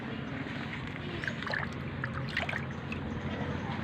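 Water poured onto a potted strawberry plant in compost soil, giving a steady close trickle and splash that runs continuously for a few seconds with no talk over it.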